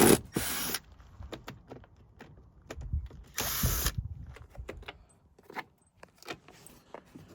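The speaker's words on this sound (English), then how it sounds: "We will go ahead and pull this bottom trim piece." Plastic bottom trim piece on a Toyota Tacoma being pried off, two loud bursts of scraping and popping among scattered clicks and clacks of plastic clips, close up.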